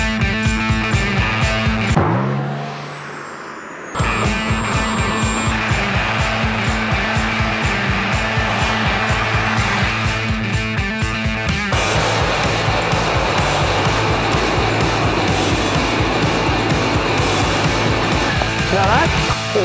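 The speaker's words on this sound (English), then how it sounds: "Jet-powered sled," A jet-powered snowmobile sled engine roars and whines steadily on ice, dipping briefly near the start and then holding a loud, sustained turbine drone, with a voice heard over it.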